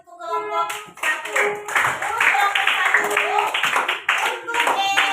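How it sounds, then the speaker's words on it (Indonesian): A classroom of students claps for a group, a burst of dense hand clapping that builds quickly and carries on steadily for several seconds, close and lively, with voices mixed in. "tepuk tangan untuk kelompok 1."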